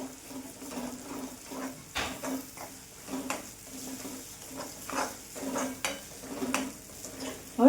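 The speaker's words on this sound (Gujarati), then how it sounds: "આપણે બધા મસાલા ચડવા દઈશું હજી આપણે આ ગ્રેવીને પાંચ મિનિટ માટે કૂક થવા દઈશું" Spiced gravy for Punjabi-style green chickpea curry simmering in a pan with garlic chutney and chilli, a faint bubbling sizzle broken by repeated soft stirring scrapes, no talk.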